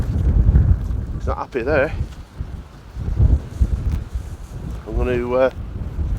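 Gusty wind buffeting the microphone on a windy day at Preston Bullnose on the coast, rumbling in uneven surges beneath someone talking nearby.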